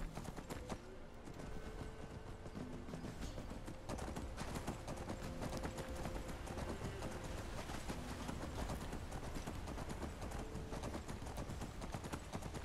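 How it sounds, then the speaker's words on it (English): Hooves of a horse clip-clop steadily in Skyrim, an even, continuous trotting rhythm heard faintly against a dense background. "This is a horse, everybody."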